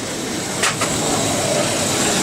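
A model railway locomotive, an older loco, runs steadily along the track with a continuous rolling hum and faint clicks as it passes, close and fairly loud.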